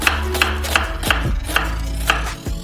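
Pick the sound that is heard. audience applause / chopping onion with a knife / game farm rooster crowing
chopping onion with a knife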